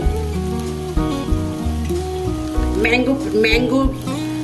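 Street-style ghugni sautéing in a pan gives a soft, steady sizzle and crackle beneath louder background music with sustained tones, lasting a few seconds.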